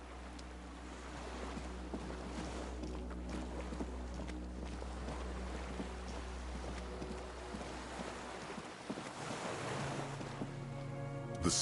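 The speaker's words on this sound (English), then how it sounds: "The skiff is swaying on the waves by the dock." Gentle waves lap against a small skiff moored by a dock in the Disco Elysium game world, a steady soft wash of water with low wind rumble and faint knocking of the hull, quiet and continuous.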